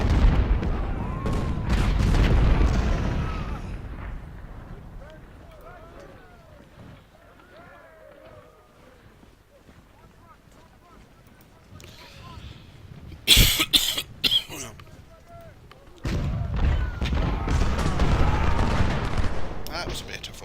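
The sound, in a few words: musket volley fire in video game Ultimate General Civil War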